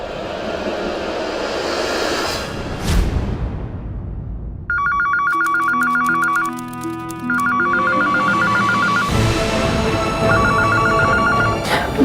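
Loud noise cuts out to an electronic telephone ring, repeating in quick trilling bursts with short gaps, clear and close.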